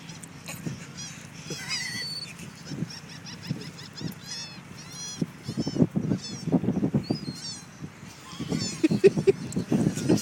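An aggressive goose honks and squawks in repeated harsh calls across the clip, close by, mixed with excited human voices and shouting around it.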